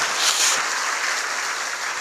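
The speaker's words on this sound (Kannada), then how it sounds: "ಜೋರಾದ ಚಪ್ಪಾಳೆಯೊಂದಿಗೆ ಗೌರವಿಸೋಣ" Applause from an audience at a gathering honoring a revered religious guest, a steady broadband patter of many hands clapping continuously and fairly loudly throughout, with no voices standing out.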